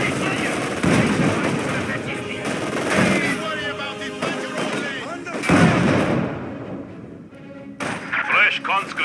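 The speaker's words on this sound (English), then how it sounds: "Artillery fire." Booming artillery fire and crackling gunfire from the Company of Heroes 2 video game rumble through a battle scene, several heavy blasts in a row, with shouted voices mixed in.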